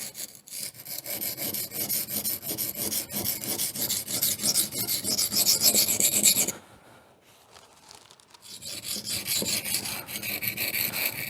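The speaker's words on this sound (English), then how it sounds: "You can tell when you're removing steel in the right places." Steady back-and-forth rasping strokes of a knife's steel bevel being reprofiled on an abrasive, loud and continuous for about six seconds, a brief near-silent pause, then the rhythmic grinding resumes.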